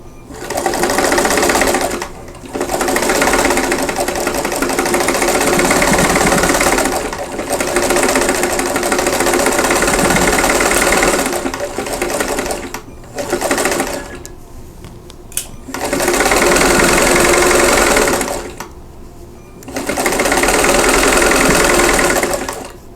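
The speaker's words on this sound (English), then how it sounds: "now I'm going to sew the rows together, and I'm going to match all the seams" A sewing machine joins quilt block rows with matched seams, buzzing loudly and close in several long runs broken by short pauses, with no voices over it.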